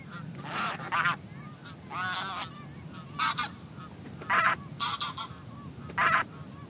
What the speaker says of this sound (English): They're a chatty bunch, geese.